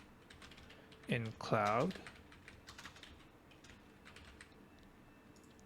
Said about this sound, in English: So I'll just go ahead and type in Reshub